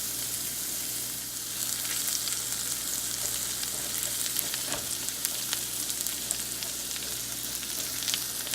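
Diced onion fries in a hot pan, giving a steady, close hiss and crackle with scattered small pops that continues throughout, with no voice over it.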